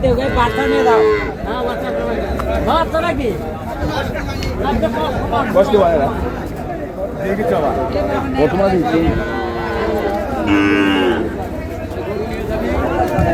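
Cattle low repeatedly at a busy Bangladeshi cattle market where dairy cows and calves are sold. Several loud, drawn-out moos rise over the constant chatter and babble of a crowd.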